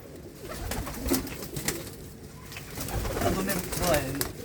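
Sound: pigeon cooing

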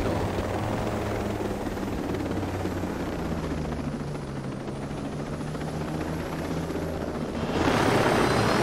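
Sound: helicopter in video game Ghost Recon Breakpoint

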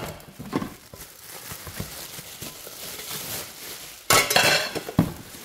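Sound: pot lid being handled and set aside

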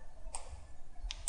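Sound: mouse click in Autodesk Inventor

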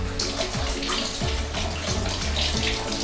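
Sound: hot water running from tap in hotel bathroom

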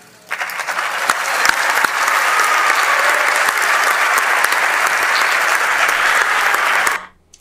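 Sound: senators applauding in the Senate

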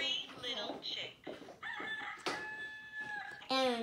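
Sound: chickens and chicks clucking

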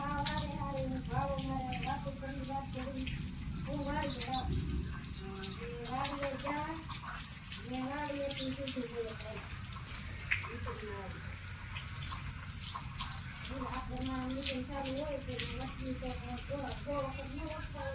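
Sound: rain falling steadily

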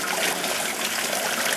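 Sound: hot beer wort being poured through a strainer into water

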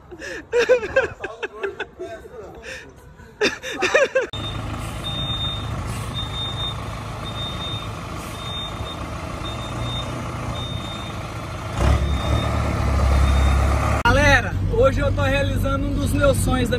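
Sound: truck with reversing beeps

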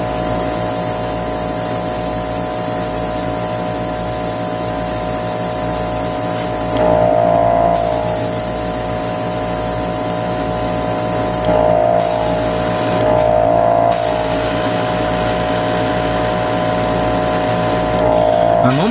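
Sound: spray painting Alclad chrome paint onto model kit parts

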